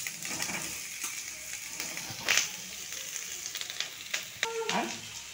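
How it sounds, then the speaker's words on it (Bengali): Cauliflower fries in a pan of oil, giving a soft, steady sizzle with light stirring clicks and scrapes. The sound is fairly quiet and close, with no one talking. "এটা যে হালকা ভাজা হয়ে যাবে এই সময়তে দিয়ে দেবো আমি ফুলকপি"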